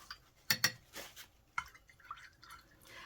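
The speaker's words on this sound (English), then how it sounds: "I'm going to give these a little stir." Small containers of liquid being stirred, a few light clinks and taps against the sides followed by soft scraping and liquid swishing, close and quiet.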